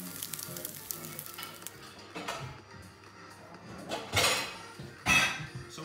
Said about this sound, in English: So you want to cook them around about 3 to 4 minutes each side.